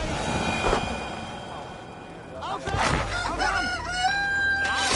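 Fighting roosters crowing amid loud, busy background noise, with shrill rising calls in the second half.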